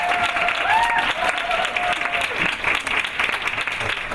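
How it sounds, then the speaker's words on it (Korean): An audience at a university essay contest final gives loud sustained applause welcoming a professor to the stage, dense clapping filling the hall with a faint tone or feedback ringing through it. "큰 박수로 맞아주시기 바랍니다."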